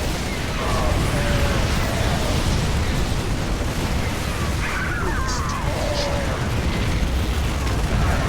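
A nuclear strike in a StarCraft II campaign mission detonates amid ongoing battle, a sustained roaring blast rumbling loudly for several seconds with crackling debris and mechanical clatter mixed in, with someone talking over it.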